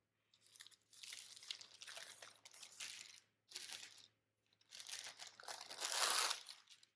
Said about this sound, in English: The only thing about that wax paper is it's a little bit loud.